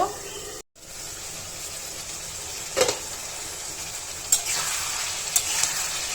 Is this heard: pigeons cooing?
no